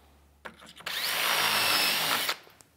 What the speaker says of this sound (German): fräsen jetzt bzw. bohren auf der linken Seite